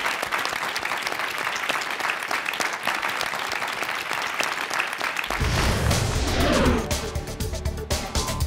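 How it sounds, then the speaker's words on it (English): An audience applauds six contending teams after their presentations at an LG Household and Health Care competition, steady dense clapping for about five seconds, then a louder, rumbling burst of noise near the end. "they deserve another round of applause"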